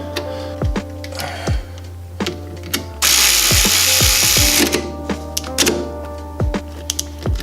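A power tool whirs in one steady burst while a banjo bolt with crush washers threads into a brake caliper on an extended brake line. Close clunks and ratchet-like clicks come before and after it.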